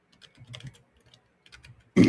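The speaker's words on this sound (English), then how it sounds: "Is my typing coming through?" Computer keyboard keys clack in short irregular bursts, quiet and close, followed by a louder sudden burst at the end; no one speaks.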